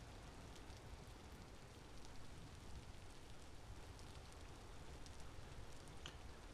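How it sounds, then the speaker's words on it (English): Steady rain falling in the video game Vintage Story, a soft, even, continuous hiss heard faintly on its own with no voices. "Hopefully the rain stops."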